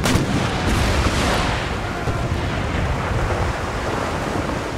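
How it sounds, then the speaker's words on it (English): A ship's cannon broadside in Empire: Total War, a heavy boom at the start rolling into a long, loud rumble of blasts mixed with sea and wind noise. "there's going to be a broadside fire here"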